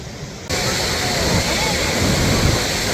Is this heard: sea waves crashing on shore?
yes